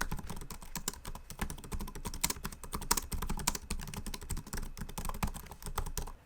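Rapid, continuous typing on an Asus Zenbook UM425 laptop keyboard, a dense patter of crisp key clicks close by with no voices.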